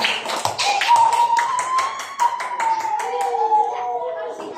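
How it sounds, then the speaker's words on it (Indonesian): Classroom students clapping for the groups that presented, a burst of quick, close claps under a teacher's voice and a high sustained tone. "beri tepuk tangan untuk kalian semua"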